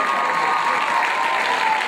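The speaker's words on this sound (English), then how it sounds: "Give him a round of applause yourself." Dense, continuous audience applause on a talk show, loud and even with faint cheering mixed in, no talk over it.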